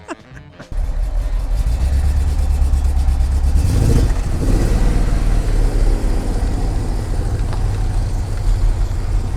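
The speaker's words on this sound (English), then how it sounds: "yesterday this ran beautifully and then today we got a little misfire" A classic Aston Martin engine runs with a misfire, starting abruptly and then holding a loud, low, uneven idle close by, with a brief swell in the middle and no speech over it.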